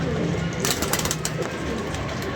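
A pigeon coos in a soft repeating call, heard faintly under a dense, noisy outdoor background.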